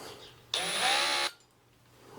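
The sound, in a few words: drill enlarging pilot hole for probe, Sonex aircraft build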